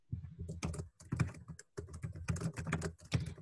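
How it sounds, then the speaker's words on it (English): Rapid clattering keystrokes on a computer keyboard, close and fairly quiet, coming in quick bursts with brief pauses between them and no talking. "I'm sorry for typing here."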